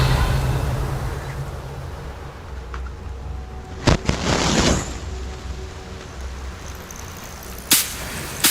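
Revelio spell cast in Hogwarts Legacy: a sharp whooshing crack with a brief shimmering burst, then quiet ambience and a second crisp snap near the end, with no talking.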